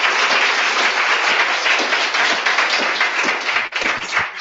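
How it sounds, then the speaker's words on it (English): An audience at a healthcare innovation event applauds its panelists. The clapping is dense and continuous, fills the room from close by, and thins into a few scattered claps near the end. "A round of applause for our amazing panelists."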